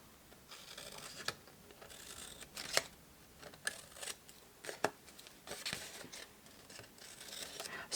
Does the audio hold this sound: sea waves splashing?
no